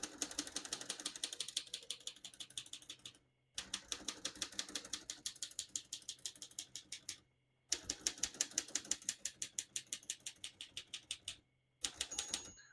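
1947 Royal Quiet Deluxe portable typewriter, its keys and mechanism clacking in fast, even bursts of strokes a few seconds long, separated by short pauses, close and crisp with no talk.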